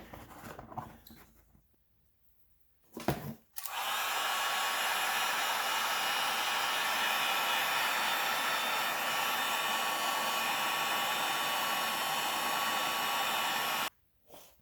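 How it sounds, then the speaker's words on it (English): A heat gun blows a loud, steady roar while shrinking heat-shrink tubing over crimped wire ends for a Honda Civic flasher relay upgrade. A click switches it on after quiet rustling, and it runs for about ten seconds before cutting off. "So we wanna heat shrink it so that it's protected."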